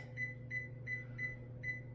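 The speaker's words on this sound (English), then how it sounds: "Now I'm going to put the timer on for 10 minutes and check them at 10" A kitchen timer is set for 10 minutes while baking buns, giving five short, evenly spaced electronic beeps over a steady low appliance hum.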